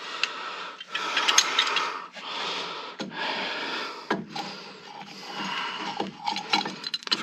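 An old brake pad pressed against a brake caliper piston to push it back, giving ratcheting, grinding mechanical clicks and scrapes in uneven bursts close by.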